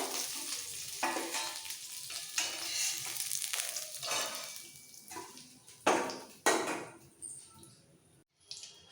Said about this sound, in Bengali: মাছগুলো একটু কড়া করে ভেজে নেবো উল্টে পাল্টে